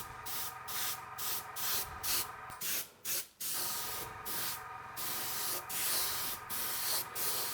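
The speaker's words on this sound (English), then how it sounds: "See, I'm not just really spraying the whole way through." Food coloring or edible spray being airbrushed onto a cake to build a beach texture, in a series of short, close hissing bursts with brief pauses, some quick and some held longer.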